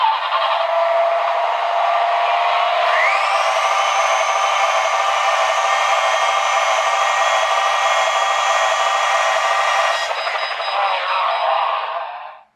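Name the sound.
drone motors spinning up during test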